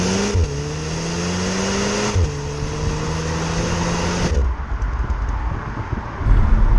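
Audi SQ2 engine pulling hard through the gears, rising revs broken by two quick upshifts, then a drop in tone and rougher rumble as a gear is dropped; loud, close and steady with road noise and no talk.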